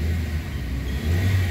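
A car engine revs at high RPM hard enough to shake the vehicle, giving a loud, low droning rumble that dips briefly and then swells again near the end.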